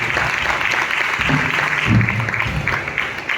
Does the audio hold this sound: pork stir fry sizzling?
no